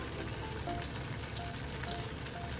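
Eggs cook slowly over low heat in a pan, giving off a soft, even sizzle that stays faint and constant, with no voices.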